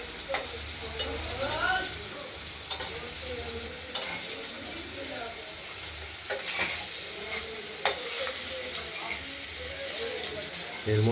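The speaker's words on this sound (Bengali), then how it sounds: "আলুগুলো ভাজা হচ্ছে।" Potatoes frying in a pan for a paneer curry, a steady close sizzle with intermittent stirring scrapes, under occasional faint talk.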